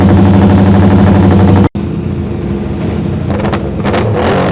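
A Norton racing motorcycle roars past at the Senior Classic TT, its loud, close engine note cutting off abruptly midway before a fainter, rougher engine sound carries on.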